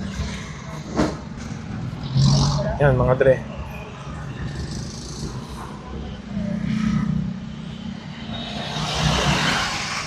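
A car in heavy traffic, with a low continuous engine and road rumble and passing vehicle noise, while someone talks over it.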